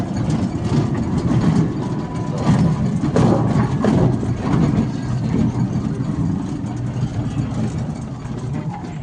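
A motor vehicle engine hums steadily while driving along a road, a continuous close low drone with mild swells as it moves, faint talk occasionally mixed in.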